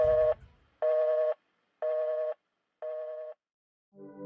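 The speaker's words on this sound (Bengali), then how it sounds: "এখন রাখেন তো ফোন।" After a phone call is hung up, a telephone busy tone sounds as evenly spaced beeps, four clear pulses in a row with silence between and a fifth starting at the end.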